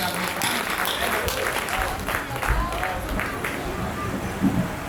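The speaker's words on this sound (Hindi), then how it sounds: "आप जोरदार तालियां बजाकर" Audience applause at a Hindi kavi sammelan poetry gathering in Mumbai, a steady wash of many hands clapping with crowd murmur throughout, moderately loud and continuous.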